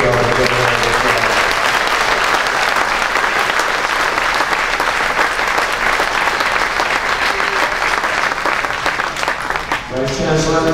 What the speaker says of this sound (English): I think you should give yourself a good round of applause.